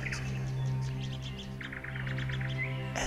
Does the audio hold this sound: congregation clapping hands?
no